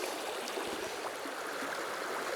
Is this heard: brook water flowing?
yes